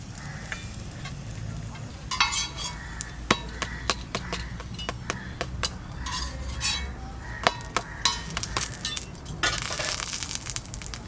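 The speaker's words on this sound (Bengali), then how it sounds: "পরোটা ভাজা হচ্ছে, তাওয়াটা তো বিশাল বড়" Vegetable paratha sizzles on a large hot tawa, with soft frying hiss under frequent clinks and scrapes of a spatula against the metal, no talk.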